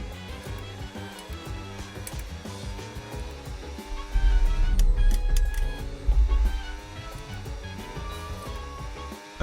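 Race car in a racing video game roaring down the main straight, a steady engine note that swells loud midway as the car accelerates, with a looping musical or synthetic tone underneath.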